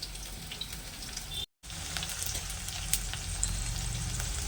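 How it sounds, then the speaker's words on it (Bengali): Soybean fritters fry in hot oil with a steady close sizzle and crackle that pauses briefly, then carries on evenly as they are turned over. "এখন উপরের পিঠটা ভাজার জন্য এটা উল্টিয়ে দিচ্ছি।"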